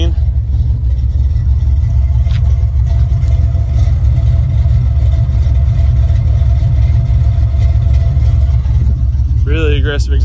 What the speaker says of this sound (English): Really aggressive exhaust note there.